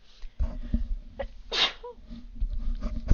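A single sharp sneeze bursts out mid-clip, loud and close, amid low room noise and faint background sounds with no talking.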